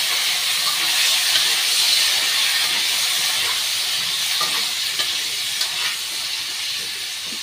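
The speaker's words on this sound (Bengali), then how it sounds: "ভাজা ভাজা হোক, তারপর মশলাগুলো দেবো।" Potatoes with tomato, cardamom and cloves fry in a pan, making a steady, even sizzling hiss throughout with no talk over it.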